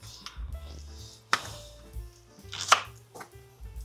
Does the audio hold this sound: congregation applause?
no